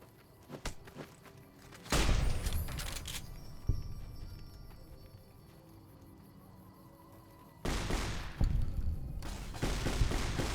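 Gunfire from shooting fiends in South Vegas in a Fallout: New Vegas-style game, with bursts of shots at the start, a sharp crack mid-way and another flurry near the end, separated by quieter footsteps and ambient noise.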